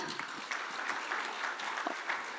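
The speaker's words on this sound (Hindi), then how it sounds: "तालियों के साथ," Steady audience applause at an awards ceremony fills the whole stretch, a dense continuous patter of many hands clapping without a break.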